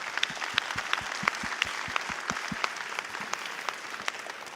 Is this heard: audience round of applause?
yes